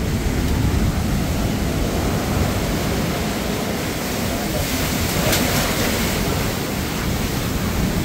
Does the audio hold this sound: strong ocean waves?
yes